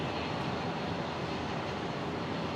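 Airbus A220 airliner engines at Brisbane Airport, a steady, fairly faint broadband roar and whine heard from a distance, continuous without any change.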